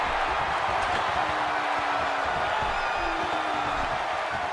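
A wrestling arena crowd in WWE No Mercy gives a steady, loud roar of massed cheering and noise that holds without a break.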